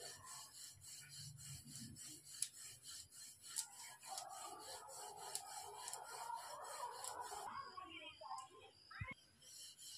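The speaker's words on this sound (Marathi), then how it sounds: "आता पोळी लाटून घेऊ आपण." Chapati dough rolled out with a rolling pin, giving soft, continuous close rubbing and rolling strokes over a steady background hum, with a brief knock near the end.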